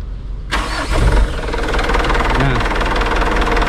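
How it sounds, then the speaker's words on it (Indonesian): Used diesel car engine idling steadily after starting up, a continuous near rumble with a rough mechanical texture throughout. "Yang kedua kalian lihat di segi suara mesin."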